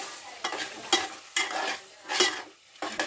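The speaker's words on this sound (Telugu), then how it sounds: "ధనియా పౌడర్ అయితే మంచిగా కలిపేసుకోవాలి." Coriander powder stirred into an egg curry frying in a pan: a spatula scrapes in several rhythmic strokes over a soft sizzle.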